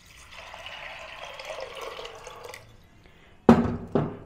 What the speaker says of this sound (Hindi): पानी हमने अच्छे से डाल दिया है।